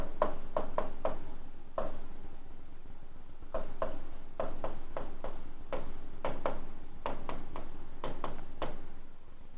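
Marker or chalk writing on a board during a chemistry lesson, a steady run of quick close taps and short scratchy strokes in bursts with brief pauses, nearly alone.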